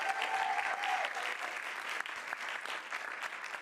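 Sustained audience applause at a school board meeting, honoring teachers, a steady dense wash of many hands clapping at moderate distance throughout.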